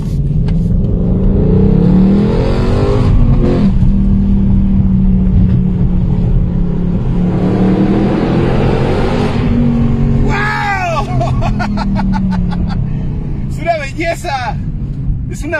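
A 2021 Ford Mustang Mach 1 V8 engine revving repeatedly, loud throaty surges that rise and fall with a rumbling idle between them, under someone talking in Spanish.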